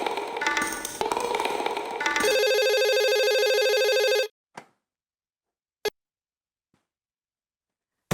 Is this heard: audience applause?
no